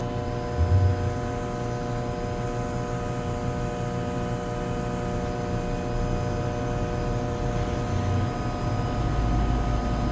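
A 1100W 110V VEVOR magnetic induction heater warms a bolt, giving off a steady electrical hum with tonal whine alongside the constant whoosh of its cooling fan. The sound holds close and even throughout, with no talk.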